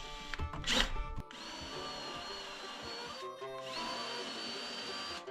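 A Forstner bit drills a relief into the back of wooden board-and-batten trim. A sharp burst of cutting noise is followed by the drill whirring steadily at high pitch, dipping briefly, then spinning up again.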